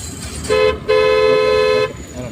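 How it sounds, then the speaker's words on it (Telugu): A loud car horn honks twice close by during a driving lesson, a short toot followed by a longer sustained blast, with faint traffic noise around it. "చూసుకుని హార్న్ వాడండి"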